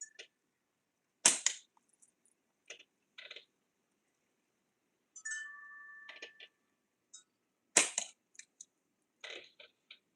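Slingshot shots at targets, heard as sparse sharp snaps and cracks separated by quiet gaps, with a short ringing metallic tone from a struck target in the middle; faint and fairly close.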